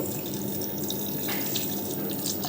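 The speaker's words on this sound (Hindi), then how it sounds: "और इसमें डाल देंगे दूध, मिल्क।" Milk pours into a blender jar for a chocolate milkshake, a steady close splashing stream of liquid with no voices.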